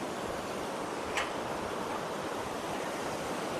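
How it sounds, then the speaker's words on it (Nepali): A large river rushing at Sundarijal near Kathmandu, heard as a dense, continuous roar of flowing water with wind buffeting the microphone and a brief faint click partway through. "खोला त ठुलै रहेछ त यार।"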